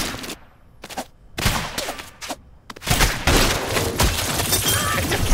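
Shotgun blasts in the video game Rounds: sharp, loud bursts of gunfire that come first in separated volleys, then become dense and continuous, with booming impacts.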